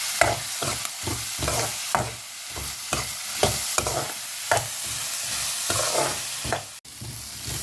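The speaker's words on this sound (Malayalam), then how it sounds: "ഇഞ്ചി, വെളുത്തുള്ളി എല്ലാം കൂടി ഇട്ടിട്ട് കുറച്ച് സമയം കൂടെ നമുക്കൊന്ന് വഴറ്റി കൊടുക്കാം" Onion, green chili, ginger and garlic sauté in a pan with a steady sizzle, broken by regular scraping stir strokes roughly twice a second.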